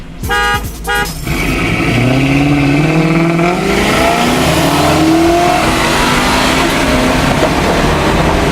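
A car engine, loud and close, climbs through a long rising rev after a couple of short horn-like toots at the start, the roar sustained and sweeping upward over several seconds with no talking.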